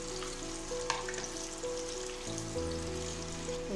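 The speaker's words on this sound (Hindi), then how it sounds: "बाकी भी हम इसी तरह फ्राई कर लेंगे।" Pakoras deep-fry in oil in a kadai with a continuous, close, crackling sizzle throughout, while a faint steady tonal hum sits underneath.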